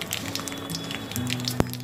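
Mustard seeds and cumin sizzle in hot oil on a medium gas flame, a faint steady crackle of tiny pops with one sharper pop near the end.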